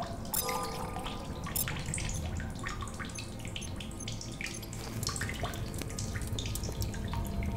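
Water drips and trickles inside a cave in The Solus Project video game, with irregular close splashes and plinks over a constant wet background.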